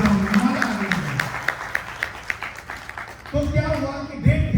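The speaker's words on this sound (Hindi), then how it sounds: "अपने लिए एक बार जोरदार ताली बजाओ" An audience at a live celebration event in Patna breaks into a short round of scattered clapping, framed by someone talking before and after.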